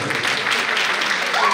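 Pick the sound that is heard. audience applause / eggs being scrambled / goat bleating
audience applause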